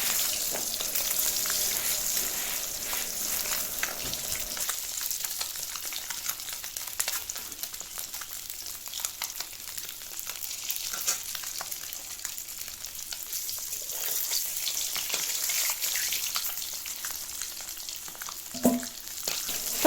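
Hot oil crackles and sizzles continuously as an egg fries, a close, steady frying hiss with faint pops and an occasional clink near the end.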